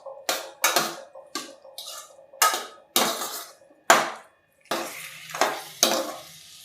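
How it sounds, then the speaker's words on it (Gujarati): Chopped chikoo roasting in ghee in a pan on low heat, heard as a series of sharp, close spoon knocks and scrapes against the pan in an irregular rhythm. "આપણે ચીકુ એડ કરી દઈશું મેં કટ કરેલા. આપણે ઘીમાં શેકી લેશું ધીમા ગેસે."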